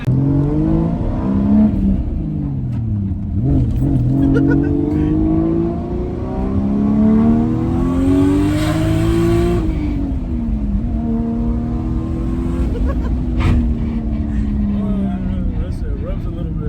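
A big-turbo Toyota Supra engine revs hard as the car drives, its loud droning note climbing and falling through several gear pulls, heard from inside the car.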